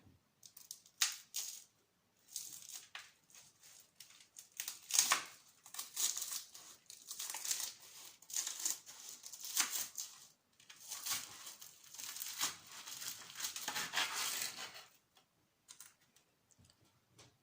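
A knife trims the edges of a freezer-chilled homemade mille-feuille, giving bursts of crisp crackling and ticking crunches with short pauses between strokes, close and fairly loud with no talk.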